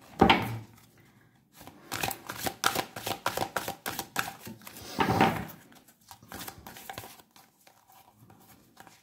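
Oracle cards are shuffled by hand, a close, papery riffling run in several bursts with a few louder slaps and pauses between, alone without talking.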